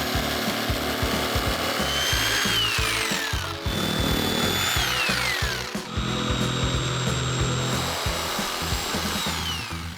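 A power saw buzzes and rasps through particle board in long continuous passes along marked lines, loud and close, its pitch dipping briefly between cuts.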